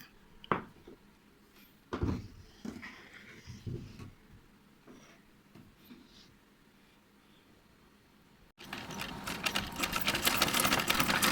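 A sewing machine stitches small fabric garments for a child. Scattered knocks and handling clatter come first, then the machine starts a loud, steady, rapid whir that runs to the end.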